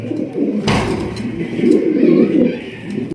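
Pigeons at a market pigeon stall coo in low, rolling, overlapping calls, close and fairly loud and continuous, with a brief burst of background noise near the start.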